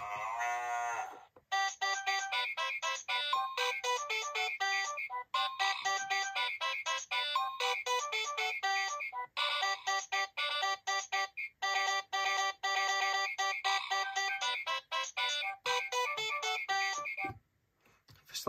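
A 2003 VTech Peek a Boo Book toy being slid makes repeated glitchy electronic tones, rapid stuttering beeps and chopped melody bursts that cut in and out, with brief gaps and a short pause near the end.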